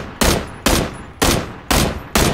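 Five loud, evenly spaced gunshots blast in quick succession, each a sharp burst that fades slightly before the next, with no talking.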